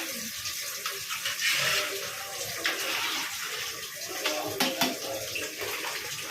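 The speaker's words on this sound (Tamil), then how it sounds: "கறியிலே தண்ணி விடுங்க" Water pours steadily into a pot of curry with a continuous gushing splash, close and fairly loud throughout.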